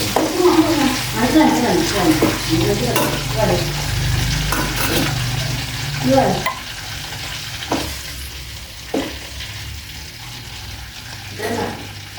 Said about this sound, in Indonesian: Ini kita goreng. Oke. Ini dia ikan dencis.